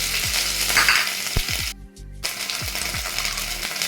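Ginger frying in oil with dry red chilli, a bay leaf and Bengali five-spice, a loud close sizzle with several metallic spoon knocks against the pan and a brief cut midway.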